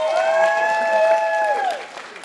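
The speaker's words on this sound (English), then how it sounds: "Let's give him a round of applause." Short round of applause from a lecture audience on a summer campus, with cheering and a high whistling tone over the clapping before it fades away near the end.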